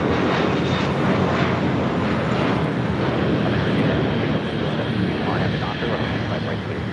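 A JetBlue airliner, flight 1388, takes off for Boston from LAX, its engines roaring loud and steady throughout with wind buffeting the microphone.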